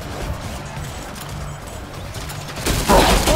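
Cannon fire in the turn-based game ShowGunners, a low rumbling scene that breaks into a loud, crashing burst of shots near the end.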